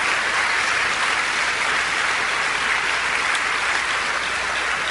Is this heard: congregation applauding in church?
yes